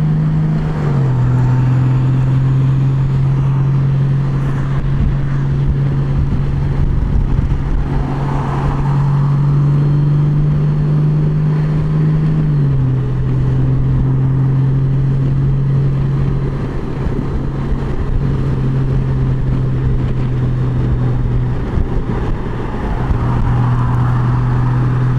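A 2019 Honda Goldwing motorcycle cruising steadily at about 2400 RPM, its smooth engine drone holding a constant low pitch with one brief dip, under loud continuous wind rush, no talking.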